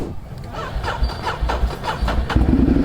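A Ducati motorcycle with a low battery is cranked repeatedly, the starter giving a string of rhythmic chugging bursts before the engine catches and settles into a rough idle near the end.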